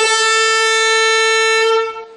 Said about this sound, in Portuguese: usa uma buzina para incomodar ainda mais